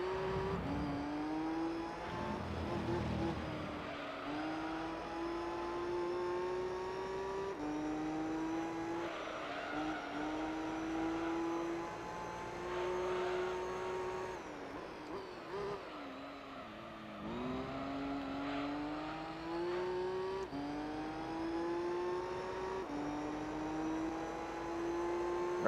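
An all-wheel-drive race car in Gran Turismo 3 drives continuously, with its engine note rising and falling through gear changes and brief tire squeal in corners, steady and prominent throughout.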